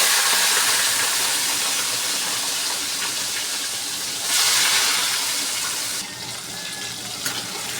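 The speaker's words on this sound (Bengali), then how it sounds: "আমি এখন মাছগুলোকে তেলে নিয়ে দিয়ে দেবো" Salt-and-turmeric-coated prawns dropped into hot oil give a loud, steady frying hiss that swells briefly midway, then drops to a softer sizzle, with no talk over it.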